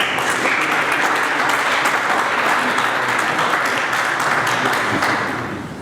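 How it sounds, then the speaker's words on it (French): A seminar audience applauds the sales director of Mitsubishi, a loud, full burst of many hands clapping with scattered sharper claps, holding steady for several seconds before tapering off at the end. "Je vous demande d'applaudir Monsieur Frédéric Bois, directeur commercial de Mitsubishi Yafka."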